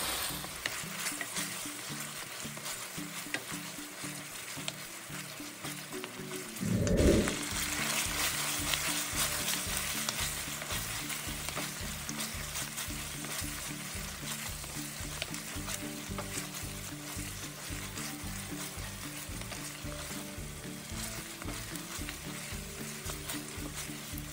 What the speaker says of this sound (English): stir all the ingredients thoroughly to incorporate all of the ingredients fully